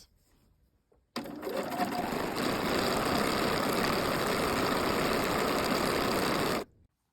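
A sewing machine topstitching around the edge of trousers at a long stitch length, running at a steady fast whir for about five and a half seconds, close and alone, then stopping.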